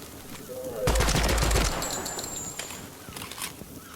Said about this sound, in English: Do they not know that I'm shooting at them?